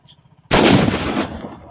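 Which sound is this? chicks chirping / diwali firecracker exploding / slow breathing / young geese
diwali firecracker exploding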